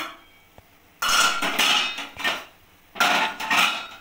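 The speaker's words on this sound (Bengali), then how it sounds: "জলটা দিয়ে আমি ভালো করে নাড়িয়ে নিচ্ছি" A utensil stirs curry after water has been added to the pot. Two bursts of clattering metal scraping and knocking sound close by, separated by a short quiet pause.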